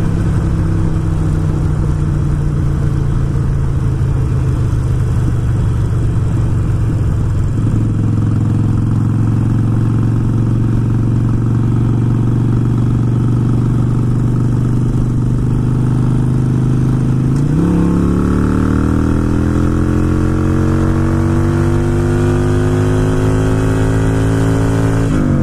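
A Harley-Davidson motorcycle with a Screamin' Eagle Pro Tuner, engine droning at steady cruise then stepping up under throttle, its pitch rising through revs; loud, close and continuous with wind noise.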